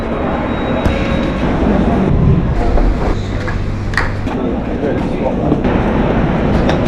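London Underground train running between stations toward Earls Court, a loud continuous rumble and roar of the carriage with rattles, heard from inside under an onboard announcement voice.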